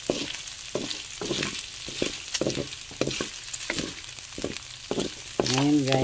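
Pork neck fries in its own rendered fat in a pan for Bicol express, with a continuous close sizzle and bursts of spattering and stirring, ending in a brief tonal whine.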